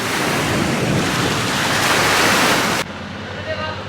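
Strong wind buffets the microphone alongside surging ocean waves on a Maldives beach, a loud broadband roar that cuts abruptly to a quieter wash of surf near the end.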